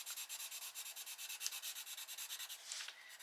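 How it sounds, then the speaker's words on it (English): A coloured pencil scribbles rapidly back and forth on scrap paper, a close, soft, rhythmic scratching in quick even strokes that runs throughout, with a brief brighter scrape near the end. "You just scribble it onto a piece of scrap paper and then it cleans it off."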